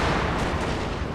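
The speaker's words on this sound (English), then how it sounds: "I think it's just the small arms fire of the Confederates." Dense small arms fire in the Total War American Civil War battle of Franklin (1864), with Confederate musketry forming a continuous rumbling roar of overlapping shots, loud and sustained, with no distinct individual reports and no voices.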